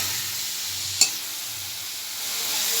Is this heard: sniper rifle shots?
no